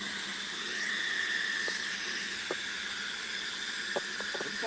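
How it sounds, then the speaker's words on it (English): A live steam engine hisses steadily while it builds up steam, with a constant high hiss over a low background and a few faint knocks and squeaks. "So this thing takes a little while to build up some steam."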